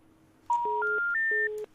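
A radio show phone line is dialled, producing a quick run of about five clean touch-tone beeps, each stepping up in pitch, loud and close over a faint background.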